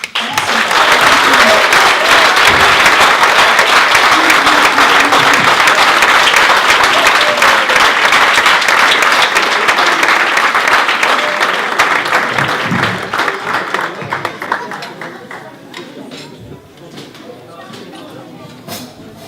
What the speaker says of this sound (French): les accueillir avec un bel applaudissement